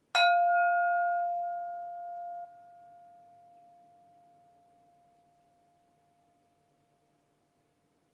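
A single bell is struck to open a mindfulness practice, giving a bright, clear strike followed by a long pure ring that slowly fades to near silence, heard alone.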